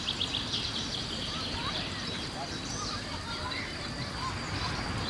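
Birds singing outdoors, with repeated high chirps and trills over a dense layer of mixed background noise, moderately clear throughout.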